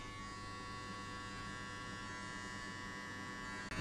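Electric hair clipper cutting hair during a mullet mid fade, run with the guard lever half open; a steady buzzing hum continues close and even throughout with no talk.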